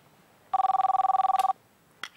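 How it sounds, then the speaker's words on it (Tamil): A telephone rings once with a fast electronic trill, a single loud burst of about a second, followed by a faint thump and rustle. "அக்கா உங்களுக்கு தான் ஃபோன்"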